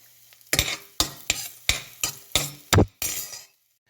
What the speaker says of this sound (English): Now I'm frying raisins.